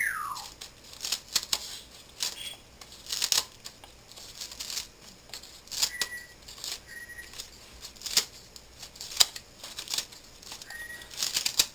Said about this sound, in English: I'm going to cut me up some green onions in there.